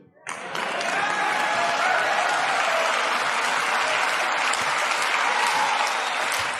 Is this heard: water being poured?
no